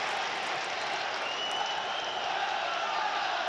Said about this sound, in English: Crowd, you can hear them now getting behind the lads